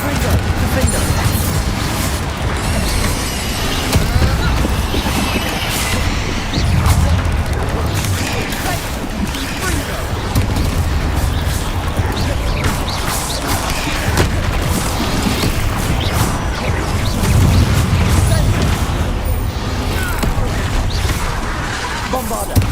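Spell explosions from Bombarda and Confringo in the Hogwarts Legacy video game, repeated booms and crackling blasts in a dense, loud barrage of combat effects, with shouted incantations over the continuous noise.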